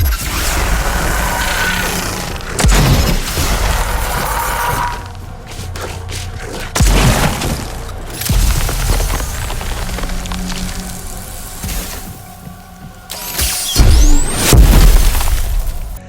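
Liquid nitrogen Frost Grip weapon in Daymare 1994: Sandcastle, heard as a string of loud shattering, icy crashes and heavy thuds with mechanical clicks, several bursts spread across the clip with quieter stretches between.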